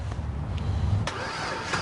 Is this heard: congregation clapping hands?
no